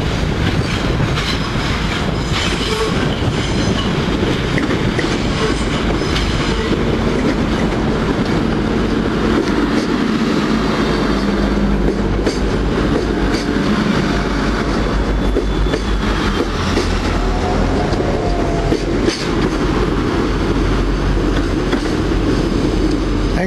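A long freight train hauled by a Class 56 locomotive rumbles past close by, wheels clattering steadily over the rails with occasional faint squeals, loud and continuous throughout.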